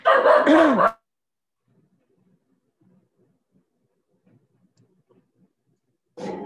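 A single loud, close dog bark sounds at the start, followed by near silence with faint ticks, then another bark-like burst at the end.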